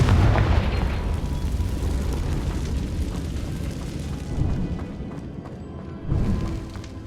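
A Confringo explosion spell in the video game Hogwarts Legacy: loud, sustained booming blasts. A dense rumbling roar runs throughout, and sharper swells of impact rise near the middle and toward the end.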